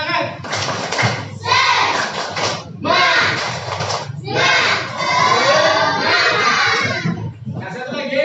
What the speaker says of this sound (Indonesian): mari kita dulu tepuk semangat.